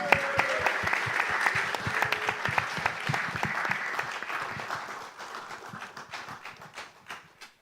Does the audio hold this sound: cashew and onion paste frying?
no